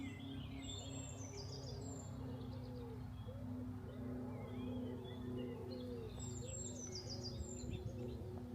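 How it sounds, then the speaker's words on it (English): A dunnock sings in a spring garden, giving short high warbling phrases that repeat a few times, fairly faint and distant over a low steady background hum. "That bird call is a dunnock"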